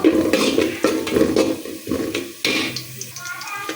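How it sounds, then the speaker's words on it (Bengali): Chopped onion, cardamom, cinnamon and bay leaf frying in oil in a cooking pot for white pulao, with close stirring scrapes and clatter over a soft sizzle. "তেলের মধ্যে পেঁয়াজ কুচি আর দিয়ে দিলাম সাদা এলাচ, দারচিনি আর দিয়ে দিলাম তেজপাতা।"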